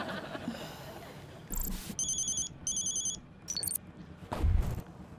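A mobile phone rings with an incoming call, repeated bursts of bright electronic tones in an indoor scene, with a few knocks and thuds around them.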